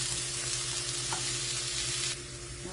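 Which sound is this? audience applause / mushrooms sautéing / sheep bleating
mushrooms sautéing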